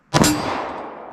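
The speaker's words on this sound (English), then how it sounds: "Let's see if there's any chance the pistol can cycle its operation without any issue." A Taurus pistol firing and cycling a Sig/Sierra 124-grain JHP round gives one sharp, loud metallic report and clack of the slide, then a short ringing decay.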